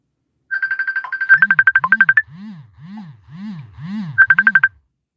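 A phone ringtone for an incoming call plays as a loud electronic trill in repeated bursts with a rhythmic low pulsing tone beneath, pausing briefly mid-way before the trilling returns.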